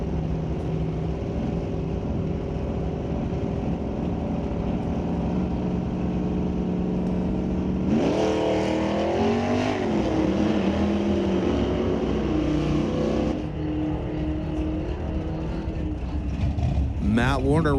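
A 1966 drag car launches hard down a drag strip, its engine roaring loud and near with a rising, wavering pitch, then fading as it pulls away, while an announcer talks over the steady crowd and engine noise.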